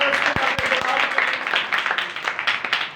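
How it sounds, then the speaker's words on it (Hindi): A church congregation claps and cheers steadily during a prayer meeting, with several voices mixed into the applause. "हालेलुया, जोरदार तालियां।"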